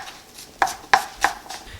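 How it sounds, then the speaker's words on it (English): A knife chops half of a large onion on a cutting board, giving three or four sharp, close thumps at an uneven pace over low background hiss, with no talking. "Next, I'll chop a half of a large onion for the carrot rice."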